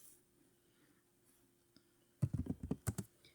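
Fingers tap a computer keyboard while working in the Vim text editor, a quick burst of about half a dozen crisp, close keystrokes after near silence.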